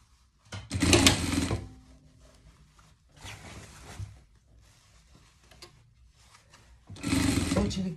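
A sewing machine stitches the cuff of a pet pajama in three short bursts of rapid, close mechanical whirring, separated by quiet pauses with faint handling sounds.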